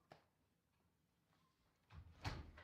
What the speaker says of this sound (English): but I gotta close this door.